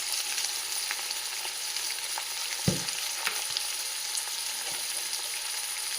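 Vegetables fry in a covered pan for majjiga pulusu, with a steady soft sizzle, a few light scrapes from stirring and one brief thud from the utensil.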